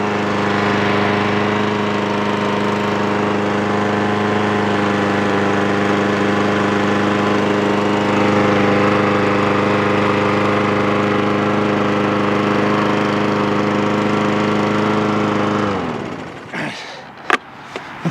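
A small lawnmower or snow-blower engine runs steadily and loudly in freezing cold weather, a constant droning hum that holds for about fifteen seconds before it winds down and cuts out, leaving a few faint clicks.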